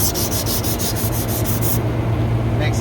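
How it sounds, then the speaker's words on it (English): Sandpaper rubs against a turning AC motor shaft, a loud close hiss with a rhythmic pulsing rasp that stops partway, leaving the motor's steady hum. "You can actually turn the shaft with the sandpaper."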